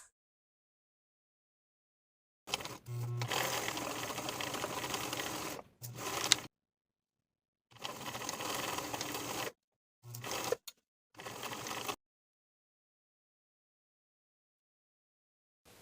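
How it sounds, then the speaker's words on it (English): A sewing machine stitches a welt pocket on a lined dress in several short, close bursts of rapid mechanical whirring, separated by silent pauses. "we're going to sew horizontally along the same stitching line that we used to sew the welt in place for both welts"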